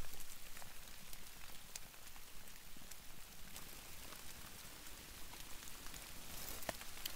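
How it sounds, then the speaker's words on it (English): Steady rain falls through the night on a lean-to campsite with a fire still burning, a dense even patter of drops with sharper nearby taps, continuous and fairly close, with no voices. "it's been raining all night"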